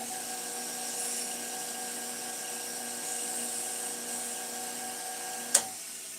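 A woodturned paint pen is burnished on a lathe, giving a steady, thin whine with a constant tone that runs throughout, fairly faint, with a single sharp tick near the end.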